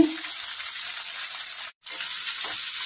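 Nigella seeds and chopped onion frying in hot oil give a steady, bright hiss that cuts out for an instant, then resumes just as strongly.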